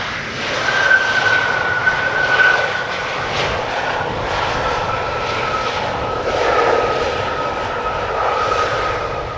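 An airliner arriving from Berlin lands at Amsterdam Schiphol Airport, its engines giving a loud, steady jet roar that swells and eases slightly across the span, with no voices.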